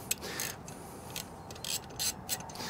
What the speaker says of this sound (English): We'll go socket. Seeing as the socket set is out.